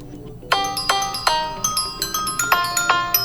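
The default ringtone of an Infinix Smart 7 phone plays on its own as a bright chiming melody. Evenly spaced bell-like notes repeat in a quick, steady rhythm.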